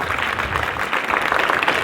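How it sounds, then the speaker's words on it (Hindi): Classroom students at an Indian inter college applaud a fellow pupil, a brief, steady burst of many hands clapping together at close range. "ताली तो बजाओ बच्चे के लिए"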